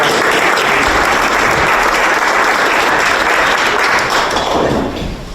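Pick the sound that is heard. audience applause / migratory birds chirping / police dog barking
audience applause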